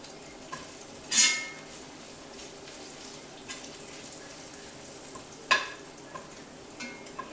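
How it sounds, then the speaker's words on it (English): Vegetables frying in a pan are stirred a few times, with low steady sizzling throughout and a couple of brief scraping, clattering bursts near and moderately loud. "Go back to these guys, give them a little stir"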